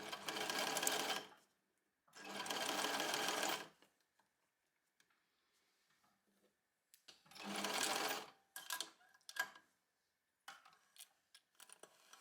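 Sewing machine stitching a fabric seam on a wrap top, three sustained bursts of fast, close whirring separated by pauses, followed by lighter clicks and handling of fabric, with no talk.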